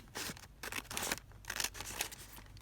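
Scissors snip through paper while an envelope book is made, a run of close, crisp cuts in quick bursts with brief pauses between them, no talking.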